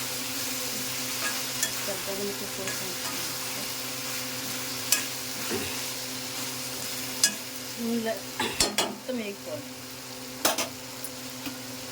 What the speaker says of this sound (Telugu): టమాటా అయితే ఇంకా నూనెలు ఇలా మొత్తం వేగిపోవాలండి ఉడికిపోవాలి